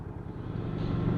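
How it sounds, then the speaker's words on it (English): Royal Enfield 350 Meteor motorcycle engine idling in a motorcycle dealership, a steady low rumble that holds close and even, with no talk over it. "on the new Royal Enfield 350 Meteor"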